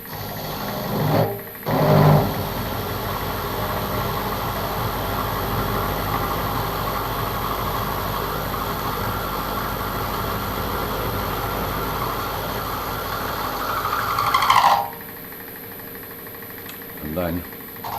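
A parting tool plunging into a slot on a Myford lathe produces a steady mechanical whirr with machining noise that runs continuously for over ten seconds, then drops away, with brief knocks near the start and end.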